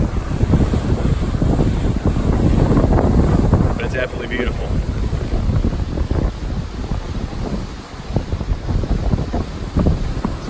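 Strong gusty wind buffets the microphone steadily at breezy Whitefish Bay in Door County, with rough waves washing beneath it, while a person speaks briefly partway through.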